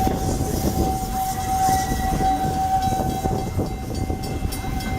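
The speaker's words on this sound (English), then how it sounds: "please remain seated till the train comes to a full and complete stop" Walt Disney World Railroad steam train rolling into Frontierland Station, with a steady close rumble and clatter of the cars, a sustained whistle-like tone running through it, and no talk.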